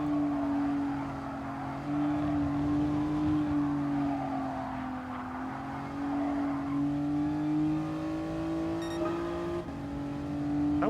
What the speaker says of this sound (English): Tire screeching and engine sounds and cars banging into other cars and walls.